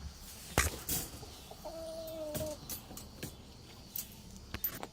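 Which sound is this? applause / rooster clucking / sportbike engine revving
rooster clucking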